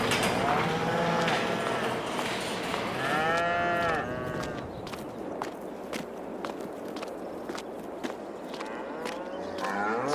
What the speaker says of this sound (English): So here in the cow barn, we have been feeding them.